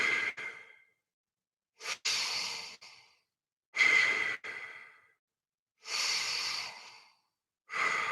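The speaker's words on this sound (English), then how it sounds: "the lucky last one we're going to do is just 30 seconds of aggressive breathing into the stomach" Forceful, deliberate breaths drawn deep into the stomach during a breathing workshop, heard as five loud, rushing breath bursts with short silent gaps between, close up and alone.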